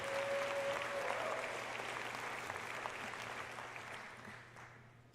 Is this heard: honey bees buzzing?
no